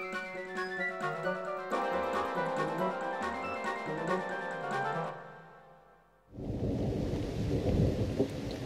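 Stormy weather in the video game Vandal Hearts: a bright musical passage fades out, then heavy rain and rumbling thunder surge in loud and continuous.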